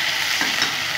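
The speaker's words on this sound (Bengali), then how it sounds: "আলুগুলো আমি একটু ভেজে নেব।" Potatoes fry in a pan for a vegetarian ghonto, giving a steady, close hiss of sizzling oil with a faint scrape of stirring partway through. No voices are heard.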